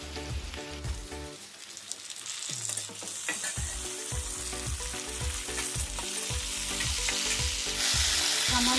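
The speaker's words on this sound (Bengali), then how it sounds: "পেঁয়াজগুলো আমার হালকা লাল হয়ে গেছে, এবার আমি টমেটোটাকে দিয়ে দেবো।" Onions and tomato fry loudly in a hot pan with a steady crackling sizzle. Stirring knocks repeat rhythmically, and the frying swells louder toward the end.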